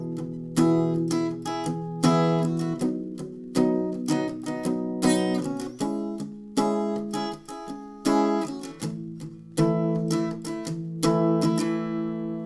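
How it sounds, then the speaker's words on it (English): An acoustic guitar plays a verse with palm-muted strumming, a repetitive pattern of short, damped chord strokes in a steady rhythm with occasional chord changes, close and alone. "We're just going to be doing some palm muted strumming"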